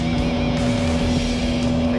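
A speedboat's Mercury MerCruiser 250 engine roars steadily at 5,000 revs and 40 knots, a loud, constant droning hum with strong tonal whine and rushing water noise, no pauses.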